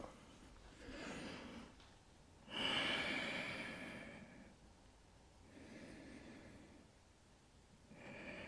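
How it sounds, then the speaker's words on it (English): Slow, steady breathing during a yoga half moon pose, close and quiet, with a few long drawn inhales and exhales in an even rhythm, one breath louder than the rest. "Nice, steady, slow breaths."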